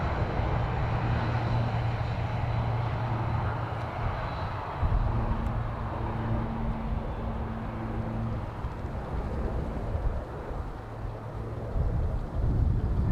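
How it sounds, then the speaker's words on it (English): A Ryanair jet airliner rumbles from far off at an airport, a low, steady drone with faint tonal hums that persists the whole time without talk. "Ryanair from far away now."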